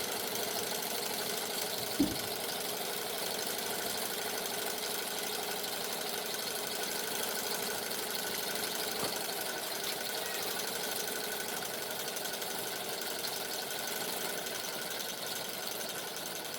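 A small model Stirling engine driving a helicopter build runs steadily with an even mechanical whir and light rattle, close and continuous, with one brief click near the start.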